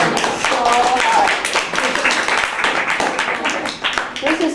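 A group at a teachers' training course claps in applause, a dense, steady patter that lasts throughout with a voice talking over it.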